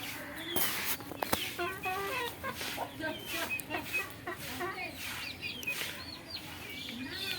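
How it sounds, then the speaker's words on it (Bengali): Desi chickens clucking around a village home, several birds with repeated close clucks and squawks overlapping in an uneven rhythm, with faint background noise. "আমাদের বাড়িতে কত মুরগি বাচ্চা দেখতে পাচ্ছ।"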